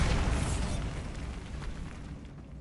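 A loud, sustained rumbling blast from the Bombarda spell in the Hogwarts Legacy video game, a dense roar that tapers slowly over a few seconds with no speech.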